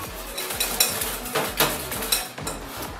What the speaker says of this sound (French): Donc vous mélangez délicatement.